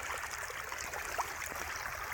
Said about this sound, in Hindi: आब खेत में पानी खसऽ लगलै